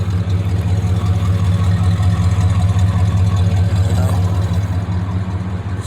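A 1970 Buick Electra 225 V8 idles with a loud, steady, deep rumble, its exhaust in need of repair, holding an even throb throughout with no voices.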